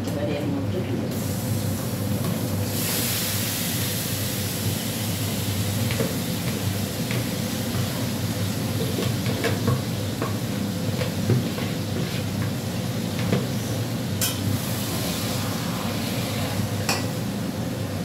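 Marinated meat is dropped into a pan where onion and potato are frying in a home kitchen, giving a steady, close sizzling hiss with soft scraping and clinks from cookware throughout.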